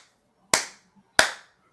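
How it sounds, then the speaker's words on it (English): Three sharp hand claps, the first two about two-thirds of a second apart and the third arriving quicker, each loud and close with a short ringing decay, recreating the slow clap from the film Rudy. "That's the clap from Rudy"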